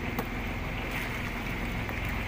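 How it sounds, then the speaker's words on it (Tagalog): A fishing boat's engine runs steadily as the boat creeps slowly along while fishing for mackerel at sea. It makes a continuous low rumble with some wind noise, and no one speaks. "Habang umaandar po yung makina, tumatakbo po kami na dahan-dahan lang"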